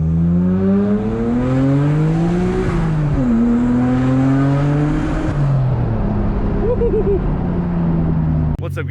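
A Nissan Skyline R33 GTR engine revs loud and close while driving, pitch climbing, dropping at a shift, then rising again in steady sweeps, with a short burble near the end.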